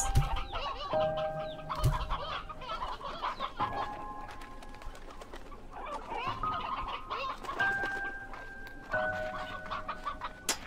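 Chickens in Slime Rancher 2 cluck and squawk in overlapping bursts, several birds calling close by with sustained tonal cackles and occasional sharp cries, continuous throughout.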